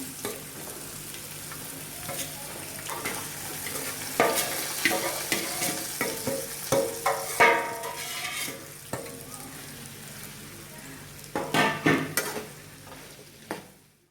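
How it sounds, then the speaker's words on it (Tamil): Raw mango pieces coated in salt and chili powder sizzle in a mustard-seed tempering while a spoon stirs the pan, bringing steady frying hiss and bursts of close scraping, with no talking. "இப்போ நம்ம இந்த கலந்து வச்சுருந்த உப்பு, மிளகாய் பொடியெல்லாம் போட்டு மாங்காய் கட் பண்ணி வச்சதில் கலந்து விட்டதை நம்ம இதில் சேர்த்துக்கலாம்"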